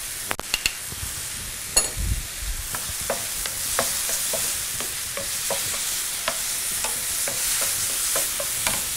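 A dab of garlic sizzles in a frying pan, a bright continuous hiss near and steady, dotted with crisp crackles and spatters throughout, no voices.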